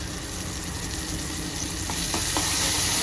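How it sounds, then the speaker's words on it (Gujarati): Tomatoes and onions frying in a pan with turmeric for Schezwan sauce: a steady, loud, close sizzle and crackle throughout, with a few faint stirring scrapes near the end and no talking. "ટમેટા પણ મસ્તીના આપણા કકડે છે."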